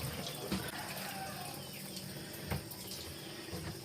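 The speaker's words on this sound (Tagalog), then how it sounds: "Agas ang tubig." Water runs steadily from a tap or into a basin in a home, a constant wash of splashing with a few louder bumps and clatters.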